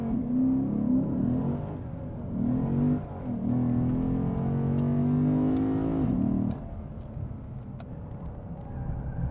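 A 2021 Lexus RC F Track Edition in Sport Engine mode drives on a race track, its engine loud and close as it revs up through the gears, dips between shifts and then settles into a steady cruising drone.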